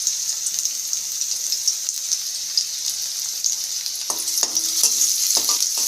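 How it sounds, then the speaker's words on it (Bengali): Onion and green chili frying in a pan, a continuous soft sizzle with a few sharper clicks and taps of stirring toward the end. "পেঁয়াজ মরিচটাকে আমি একটু ভেজে নেব"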